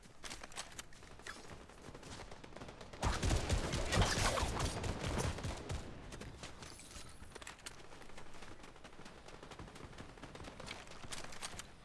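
Automatic rifle fire in a video game, a rapid sustained burst of many shots, loudest in the middle, with scattered firing continuing after it.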